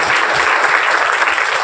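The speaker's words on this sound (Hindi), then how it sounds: "एक बार जोरदार तालियां बजा दीजिए।" Loud, dense applause from a large audience at a public gathering, a continuous roar of many hands clapping close by with no voices standing out.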